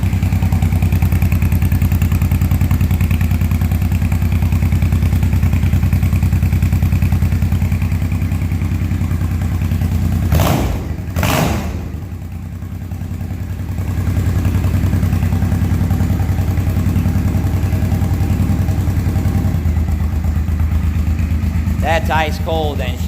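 A cold Honda Shadow VT500 motorcycle engine idles steadily with a deep, even thrum close by, dipping briefly in the middle before settling back to a smooth idle, with someone talking over it.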